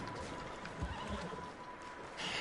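A horse whinnies in a PS4 video game, its neigh rising over a busy background of hoofbeats and ambient game noise, with a second cry near the end.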